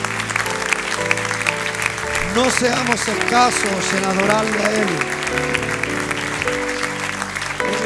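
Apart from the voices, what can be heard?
congregation applause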